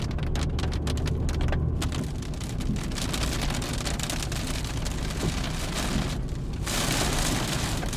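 Heavy rain pours down steadily in Mallorca during a May ice storm, a loud, dense roar of rain drumming on surfaces, continuous and close with no pauses.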